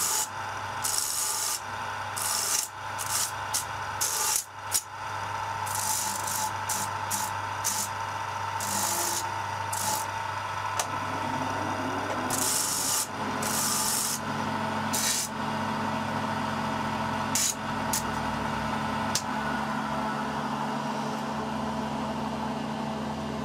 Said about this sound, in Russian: Ставлю кружок с более мелкой наждачкой и теперь уже как бы ближе к финишу обрабатываем.